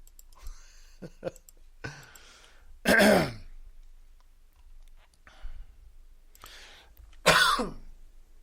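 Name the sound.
coughing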